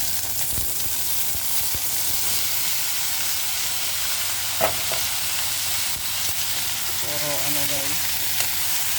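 Pumpkin or squash stir-frying in a pan, giving a steady close sizzle and hiss throughout with a few faint clinks of a utensil, and a person talking briefly near the end.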